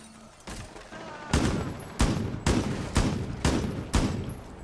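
Rainbow Six Siege gunfire: a steady series of loud, evenly spaced shots, roughly two per second, with a burst of firing at the start and the rest standing alone.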